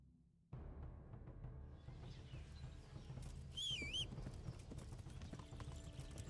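A horse's hooves clip-clop steadily in Kingdom Come: Deliverance, entering after a short quiet start and continuing as an even trotting rhythm, with a brief bird chirp overhead partway through.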